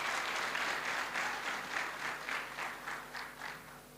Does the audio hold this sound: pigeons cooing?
no